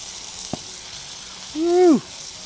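A steady sizzle of Texas toast frying on a hot Blackstone griddle, with a brief click and then a short, rising-and-falling squeal over the frying.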